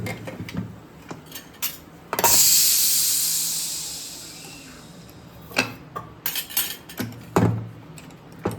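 A pressure cooker whistle lets go after boiling potatoes and peas, a loud sustained hiss of escaping steam that slowly fades, followed by scattered clinks and taps of the pot being handled.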